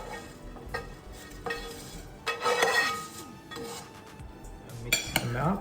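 Cooked grain and cheese for a vegetarian grain salad are tossed in a bowl with utensils, giving close clinks and scraping clatters in irregular bursts, louder toward the middle and end.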